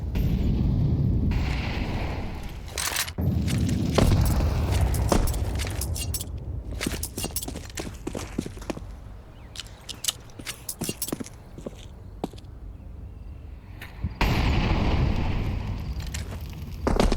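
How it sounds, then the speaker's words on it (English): Grenades detonate in a competitive online shooter match, a burst of loud explosions at the start and again near the end, with scattered gunfire and sharp impacts in between. "these nades are so damaging"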